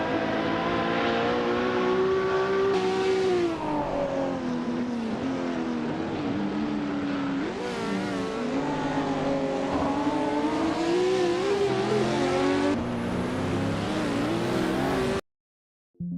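Racing cars in a racing video game roar and rev continuously, with engine pitch rising and falling through repeated accelerations. The sound is loud and close, then cuts to silence just before the end.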